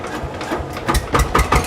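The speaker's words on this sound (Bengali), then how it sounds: "ফার্স্ট টাইম এই মেশিনটা আমরা স্টার্ট দিয়ে দেখাই। দেন স্টার্ট দেন।" A brand-new engine started for the first time, catching with a rising series of loud, rhythmic low thumps that settle into a quick chugging idle, with no talk over it.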